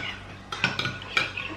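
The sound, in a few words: stirring yeast, warm water and honey mixture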